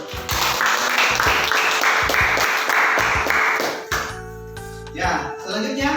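An audience claps and applauds together for several seconds after a classroom presentation, in a dense, steady patter that tapers toward the end, with some faint voices underneath.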